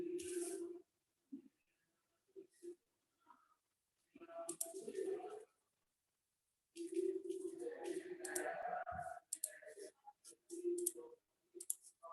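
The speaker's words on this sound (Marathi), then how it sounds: "कॅल्सीवर असंच्या असं लिहा" Calculator keypad pressed in short bursts of quiet clicks while numbers are entered for a logarithm calculation, with gaps between presses and some faint background noise.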